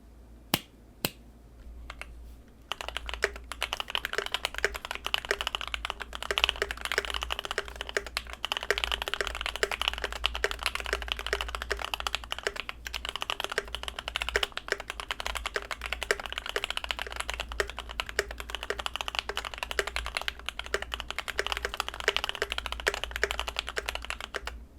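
Rapid clacky keystrokes on a GMMK Pro mechanical keyboard, continuous and close, with a few isolated clicks at the start.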